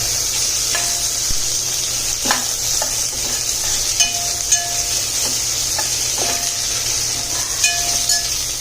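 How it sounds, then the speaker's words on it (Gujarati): Sliced onions frying and stirred in a pan for a sambhar gravy, a loud constant hiss of sizzling oil punctuated by repeated metal spoon clinks and scrapes against the pan. "હવે આ રીતે બધું થોડું શેકાઈ જાય એટલે આપણે એમાં ડુંગળી અને ટમેટા એડ કરી દઈશું।"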